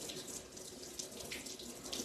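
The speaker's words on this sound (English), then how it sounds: "I gotta wash my hands." Tap water running steadily into a kitchen sink while hands are washed, a quiet continuous splashing hiss with small fluctuations and no voices over it.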